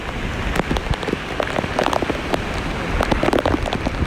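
Heavy rain pouring down during a storm in Guangdong, China, loud and close, with dense drops splattering hard on surfaces in an irregular patter, no voices.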